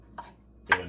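A knife chops garlic cloves on a cutting board, two short sharp strikes with a pause between them, close and fairly quiet.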